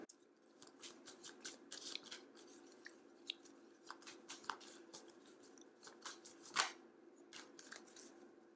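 Oracle cards shuffled and pulled by hand, soft irregular papery flicks and slaps with a few sharper snaps, close and quiet with no talk.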